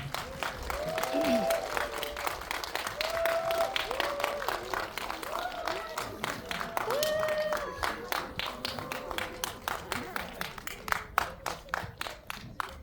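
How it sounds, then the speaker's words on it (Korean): Cinema audience applauding at a stage greeting for the film Harbin at a Megabox theater, sustained clapping with scattered cheers and whoops, later thinning into sparser individual claps. "큰 박수 부탁드립니다."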